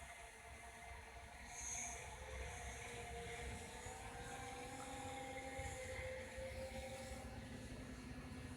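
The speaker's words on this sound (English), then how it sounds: "Yeah, a helicopter up there." A helicopter passes overhead at a distance, a faint steady drone with rotor hum that holds through the stretch, with no talk.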